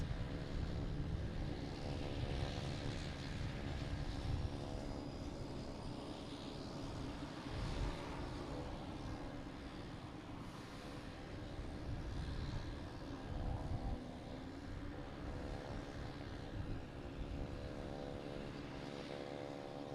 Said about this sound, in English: Coming in, we have an American Airlines coming in from Charlotte, an A319, flight 2776.